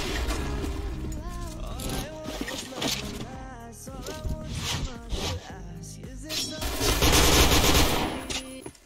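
Rapid bursts of gunfire from the online shooter game Point Blank, with repeated machine-gun volleys over game music and effects, loud and continuous, with a voice speaking over part of it.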